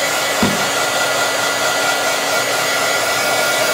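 A heat gun blows hot air at a printer nozzle in a steady, loud, unbroken whoosh that runs the full length with no voices.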